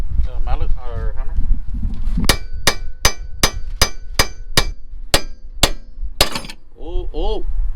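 A hammer strikes a car suspension part repeatedly on a Lexus during a coilover install: about a dozen sharp, evenly spaced metallic clanks ring out, with people talking before and after.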